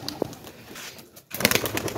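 Pigeons coo in short soft bursts close by, with a brief rustle early on and livelier calling in the final stretch.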